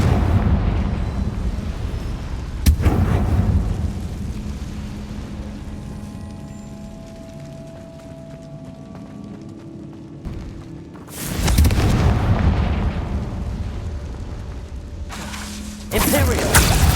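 Spell blasts from the Confringo and Bombarda spells in the Hogwarts Legacy video game: heavy booming explosions burst out around 3, 11 and 16 seconds, each with a broadband crack and rumbling tail, with shouted incantations and game sounds in between.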